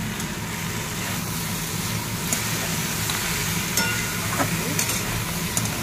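Potatoes and lentil dumplings (bori) fry in a pan with a steady close sizzle, punctuated by a few soft clicks and scrapes of stirring.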